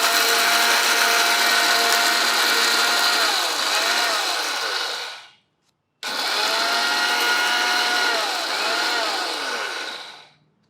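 A mixer grinder grinds black gram for a South Indian chutney in two long, loud, steady whirring runs, with a brief pause between them.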